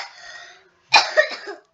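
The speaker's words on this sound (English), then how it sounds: "you keep coughing." A faint, breathy sound fades out, then after a short silence comes a sharp, close cough with a raspy tail.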